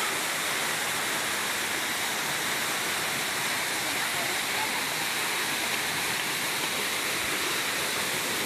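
Spring water pours steadily from a cemented outlet, a dense, constant rushing splash that stays even and close throughout with no pauses.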